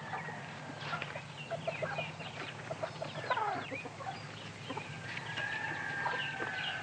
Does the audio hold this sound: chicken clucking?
yes